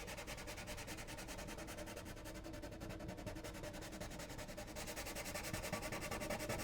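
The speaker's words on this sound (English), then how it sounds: "All right, so we got this all sanded down. It's nice and roughed up." Sandpaper roughing up the bridge area of an acoustic guitar, a fast steady rubbing scratch repeating in short strokes, close and quiet with no talk.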